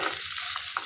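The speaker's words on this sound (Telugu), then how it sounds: "ఇందులోనికి 1 స్పూనుడు అల్లం వెల్లుల్లి పేస్ట్ వేసుకోవాలి. పచ్చివాసన పోయిన వరకు వేయించుకోవాలి." Ginger garlic paste sizzles steadily in hot oil for a rajma curry, with a continuous broadband fry and a couple of brief stirring scrapes near the end.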